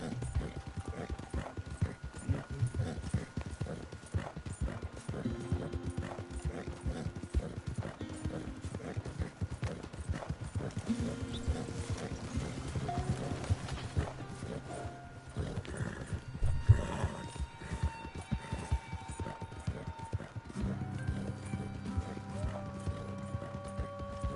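Horse hooves gallop in steady clip-clop rhythm as a rider urges the mount on in Red Dead Redemption 2, with game music and ambience layered over the continuous hoofbeats.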